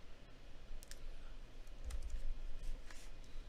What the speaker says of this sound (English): I'm over here typing it up on the Surface